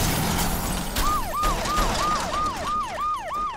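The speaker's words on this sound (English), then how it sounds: "I hear how many sirens" A wailing siren rises and falls in rapid repeated sweeps, fairly close and loud, over a rumbling background of traffic and commotion.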